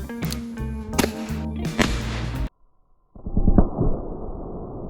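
A 410 shotgun slug is fired into a water jug. One sharp, loud blast rings out outdoors, then a short silence, then a burst of splashing and debris noise.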